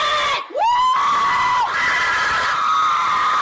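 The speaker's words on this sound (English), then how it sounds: "what's that audio when like Dr. Phil's taking off his shirt and those girls are screaming" A group of girls scream loudly and continuously, shrill and sustained like an excited crowd, cutting out briefly near the start and then rising again into a long, piercing shriek.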